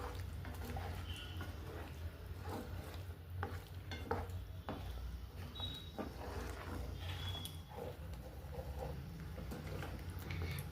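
Fried chicken pieces are stirred into a sizzling chilli sauce in a pan. A constant close frying hiss runs throughout, broken by scraping spoon strokes and occasional light clinks of metal on the pan.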